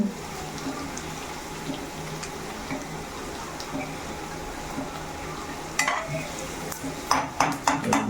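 Vermicelli (semiya) frying in a pan, a steady soft sizzle and hiss with light stirring, then a few sharper scraping clinks of a utensil against the pan near the end.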